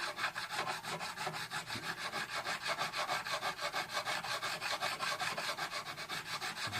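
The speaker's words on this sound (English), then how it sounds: "this diamond edged file, or diamond coated file, does this really quickly and really efficiently" A diamond-coated file rasps back and forth across the frets of a vintage cherry SG guitar, a close, steady run of evenly spaced scraping strokes with no voices.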